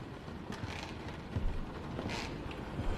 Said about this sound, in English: So creaky.